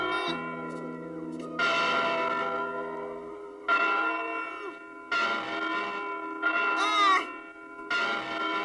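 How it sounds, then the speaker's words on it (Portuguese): Large bells ring in repeated, resonant strikes with long overlapping tones, while a high wavering cry like a cat's meow cuts in between. "O que é que os sinos da catedral estarão a tocar agora?"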